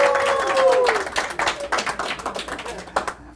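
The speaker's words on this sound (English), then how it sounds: "So give them a round of applause." Audience applause at a seminar on funding a nonprofit real estate business, a burst of scattered claps that thins out over a few seconds, with a voice briefly heard at the start.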